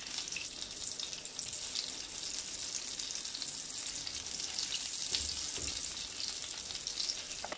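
Steady, close sizzling of food frying in a hot frying pan, a continuous crackling hiss with no talking.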